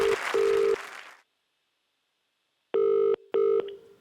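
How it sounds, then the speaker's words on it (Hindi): Telephone ring tones in short bursts, two quick rings at the start, then silence, then two more loud rings, a live phone call placed to a stranger on a comedy stage show. "ये लाइव फोन कॉल किया जा रहा है किसी अनजान को"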